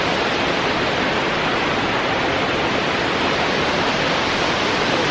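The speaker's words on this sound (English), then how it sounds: "Check out that stunning waterfall." A roaring waterfall in northern Bali, reached down a long flight of stone steps, pours a steady, loud, broadband rush of falling water with no letup, close and filling the scene with no voices.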